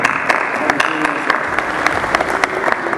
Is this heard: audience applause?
yes